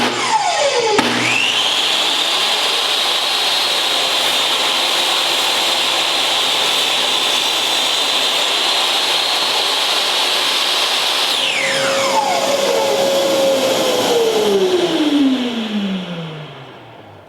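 A power saw whines steadily while routing a rabbet along a wooden picture frame, a loud sustained buzz lasting about ten seconds, then spinning down in a falling tone as the blade coasts to a stop.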